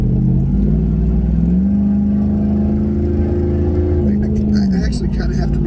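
A jacked-up four-wheel drive truck's engine revs up with a loud, rising drone that holds high, then eases, while a voice talks inside the cab.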